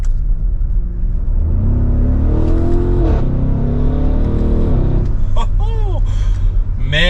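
A 2023 Audi SQ7 Prestige in dynamic mode revs its engine loudly from inside the cabin, rising and falling in sweeping pitch over a deep rumble, while someone talks over it.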